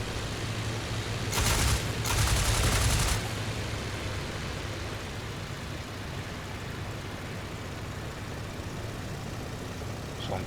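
Machine gun fire in IL-2 Great Battles Flying Circus, a World War I dogfight game, comes as two short bursts early on over a constant droning aircraft engine, which continues alone afterward.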